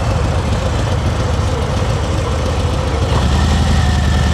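A motorcycle engine runs steadily at low revs during slow speed riding practice in Florida, a loud continuous idle-like drone with no clear speech over it.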